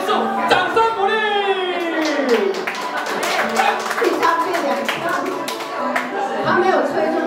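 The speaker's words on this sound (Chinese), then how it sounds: "掌声鼓励。" An audience at a Christmas party magic show claps in scattered bursts while a voice talks over the applause almost throughout.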